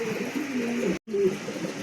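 A pair of Blue King pigeons cooing close by, a low soft warbling coo repeated in short phrases with a brief break in the middle.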